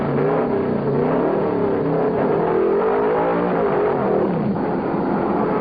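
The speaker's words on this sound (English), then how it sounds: "With the yellow out again, Eddie Royster screams into the pits." Under a caution in a 1968 modified race at Martinsville, a race car's engine roars loud and close as it heads into the pits. The recording is thin and archival, with the engine note wavering steadily.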